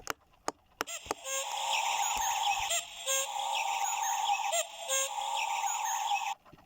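Cuckoo call from a British bird clock, sounding as a steady, dense bird-call recording over a soft natural background, with a few sharp clicks at the start and a clear, continuous presence for about six seconds.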